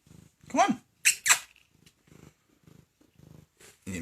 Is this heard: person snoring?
no